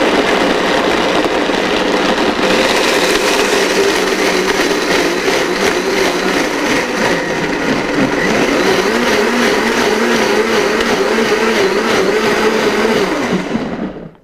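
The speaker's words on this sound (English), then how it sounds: "Always make sure that your blender is plugged in" A blender whirs continuously at high speed as it purees cashews for raw vegan yogurt, a loud steady motor drone with shifting churning tones that cuts off abruptly at the end.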